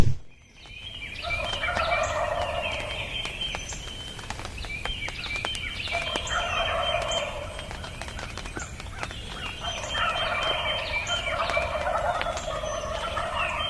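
Wild turkey toms gobble outdoors at daybreak on a spring hunt in Iowa or Kansas, with several loud rattling gobble bursts repeating at intervals against a quiet field background.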